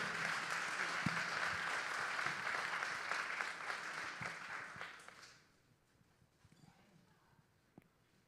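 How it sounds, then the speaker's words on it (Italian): Church congregation applauding at a Christmas service with a choir, sustained clapping that fades out after about five seconds into a quiet room with faint stray sounds. "facciamo un applauso a Gesù, a Dio."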